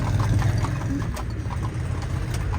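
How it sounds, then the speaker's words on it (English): Carriage horses clip-clop along a street between Garmisch and Partenkirchen in Bavaria, their hooves striking in a steady rhythm close by under the low rumble of wheels. "The horses know where they're going."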